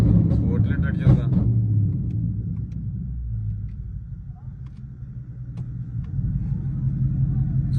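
A modified car at a Kerala auto show revs hard in place, a loud, sustained low engine rumble with surging pulses throughout, while people talk nearby.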